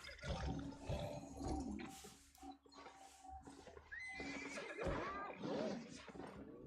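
Horses neigh and whinny repeatedly, loud and close, with a steady game-like background hum and some faint clattering between calls.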